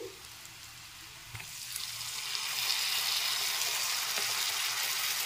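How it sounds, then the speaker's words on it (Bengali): A spice paste for vegetarian aloo dum fries in a pan, its bright hiss swelling and holding steady, with a couple of faint utensil taps along the way. "মশলাটাকে মোটামুটি 2 থেকে 3 মিনিট ভালো করে কষিয়ে নিচ্ছি।"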